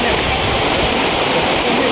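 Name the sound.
Ozarde waterfall in Maval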